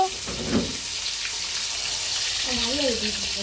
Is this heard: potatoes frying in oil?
yes